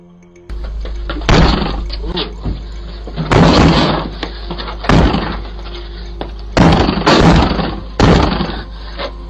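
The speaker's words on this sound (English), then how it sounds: "rushing to the door and kicking it as hard as he can. Another man joins him, attempting to break down the door" Men kick hard at a house door, trying to break it down; several loud, heavy thuds and bangs land in bursts over a steady low hum, with no talk.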